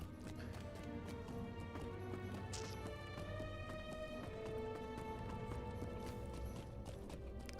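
A goat mount's hooves clip-clop steadily in the online game Lord of the Rings Online, a quick even trot over layered game music and ambience, with no pause throughout.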